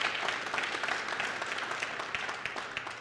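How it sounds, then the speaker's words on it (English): A church congregation claps during a Sunday service, many hands in a lively, fairly close round of applause that gradually tapers off toward the end. "You should clap for that."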